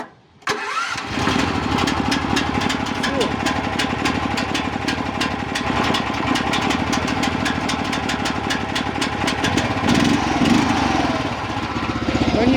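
A Brukkov mini loader engine, running off a motorcycle gel battery, cranks briefly and catches at once, then settles into a loud, steady, close-up chugging idle with rapid regular firing pulses.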